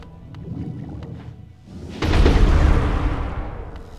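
Explosions in the video game Hollow Knight, a deep rumbling boom erupting midway after quieter game sounds and lingering as a loud, low roar.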